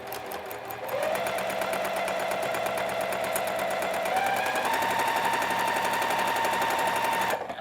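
A domestic sewing machine chain pieces quilt fabric, running continuously with a rapid, even stitching rattle that steps up slightly in pitch partway through, close and steady with no talk.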